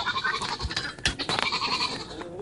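Goats in a pen bleat nearby, several short, nasal calls overlapping amid shuffling movement.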